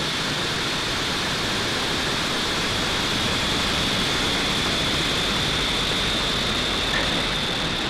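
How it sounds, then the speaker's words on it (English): SpaceX Falcon 9 rocket lifting off on the Intelsat G-37 launch, a dense, continuous roar of broadband noise held at a steady loud level throughout, with no voices. "Ignition and liftoff for Falcon 9."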